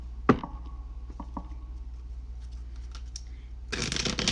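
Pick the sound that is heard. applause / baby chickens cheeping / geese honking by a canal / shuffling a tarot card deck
shuffling a tarot card deck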